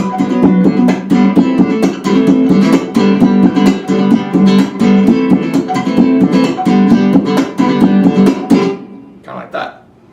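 Acoustic guitar played with a percussive feel, the fretting hand pushing down on the strings for rhythmic slaps amid strummed chords, a steady driving groove up close that stops near the end.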